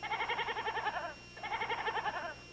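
A goat bleating in two long, quavering bursts, close and fairly clear, with a short pause between them and no talk over it.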